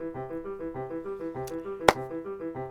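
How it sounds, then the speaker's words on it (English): An Akai MPK Mini mk2 arpeggiator cycles through held synth notes in a steady, even pulse of short repeated tones, with one sharp percussive click near the end and no talking. "If you play a bunch of notes with the arpeggio on, it sounds like this."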